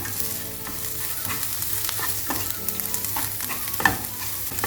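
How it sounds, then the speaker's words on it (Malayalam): Green chilli, ginger, garlic and curry leaves are stirred in a hot pan, sizzling steadily. Spoon scrapes and clinks sound close up throughout. "നന്നായി ഒന്ന് മിക്സ് ചെയ്യാം."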